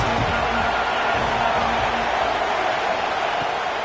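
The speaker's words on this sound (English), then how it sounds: "Challenge this crowd to bring the energy, and I'd say they're doing that." A dense, steady roar from a college football stadium crowd at an NCAA game, loud and continuous throughout with no clear breaks.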